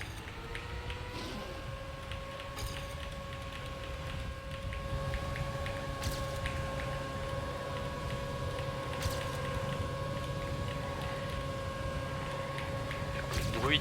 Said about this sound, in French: Le bruit de ce moteur en permanence dans les oreilles, cette espèce de moustique...